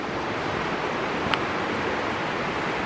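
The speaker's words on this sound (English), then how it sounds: "At a fantastic junction here, creek into a mighty river." Broad, steady rushing of a creek pouring into a large river at their junction, a continuous close wash of moving water with no voices.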